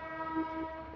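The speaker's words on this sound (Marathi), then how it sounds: "लोकल आली आहे." Local train passing near Begdewadi railway station by Talegaon, horn sounding as a sustained tonal blast, faint and somewhat distant.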